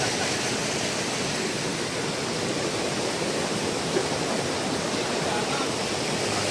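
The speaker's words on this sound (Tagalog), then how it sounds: "punta ka lang dito sa ganitong kalakas na tubig." Strong, steady roar of Limay Tikip Falls, powerful water pouring without pause, loud and close, with no talk heard over it.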